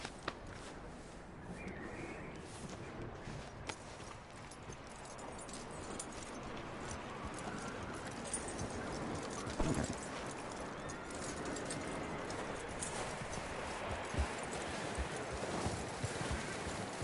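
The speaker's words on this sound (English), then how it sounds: "That looks like a decent horse." Horse hooves clip-clop at a walk in the Red Dead Redemption 2 video game, a soft, irregular patter of hoof falls over a hushed outdoor ambience, fairly quiet throughout.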